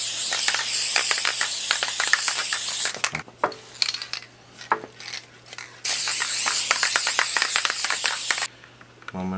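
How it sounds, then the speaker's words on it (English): Spray glue hisses from an aerosol can onto a diorama piece in two long, loud bursts separated by a pause filled with small clicks and handling noises. "Because I'm gonna glue it. Just spray it, right?"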